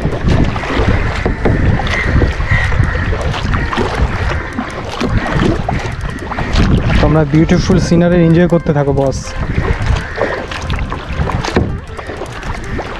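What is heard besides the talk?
kayaking on a Kerala river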